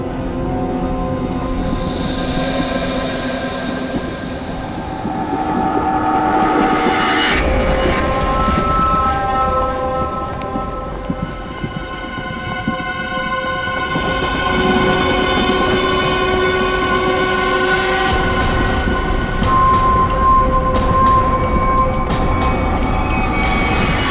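A moving passenger train heading toward a tunnel, with loud continuous rumbling of wheels on rails and sustained metallic squealing tones that rise and shift throughout, with no voices over it.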